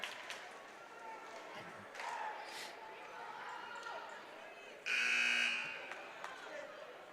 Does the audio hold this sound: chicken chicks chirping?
no